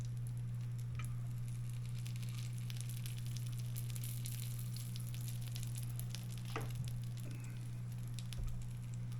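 Pork steak meat sizzles steadily on a hot griddle, a continuous crackling fry over a low electrical hum, with occasional scrapes and pops close by.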